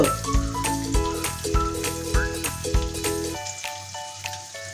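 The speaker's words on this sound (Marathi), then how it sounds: "लसूण चांगला परतून घ्यायचं तेलात" Garlic sizzles in hot oil in a pan for Maharashtrian val bhaji, a soft steady crackle under a melodic music track, with no talk.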